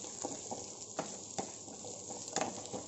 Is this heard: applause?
no